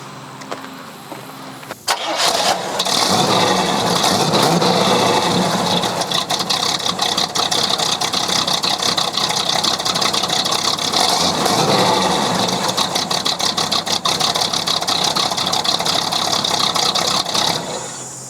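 A homemade mid-engine sports car cranks and fires up, then settles into a loud, close, steady idle with a rough, throbbing exhaust note that holds for the rest of the clip.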